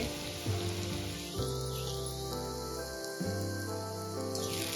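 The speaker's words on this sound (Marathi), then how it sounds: "आता आपण हा किस परतून घेऊया तुपामध्ये" Grated sweet potato sizzles steadily as it fries in ghee, a continuous close crackle like rain on a surface with no talk over it.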